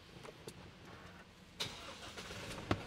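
A 2019 Isuzu MU-X diesel SUV with automatic transmission starts up, giving a few faint clicks before a brief crank and catch, followed by a quiet low idle.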